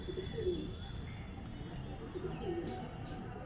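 A female pigeon coos softly nearby, a few low throaty calls over faint background hum and a murmur of room noise.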